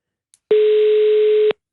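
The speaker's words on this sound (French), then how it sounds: "Manon Aubry, deuxième sonnerie." A single steady telephone ring tone lasts about a second, loud and clean against silence, with a faint click just before; the second ring of an outgoing call.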